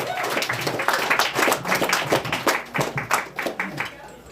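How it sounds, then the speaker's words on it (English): Theater audience at a live comedy show claps in dense, continuous bursts for a comedian coming to the stage, with scattered cheers and voices mixed into the close, steady applause. "Cheer for Zachary, guys."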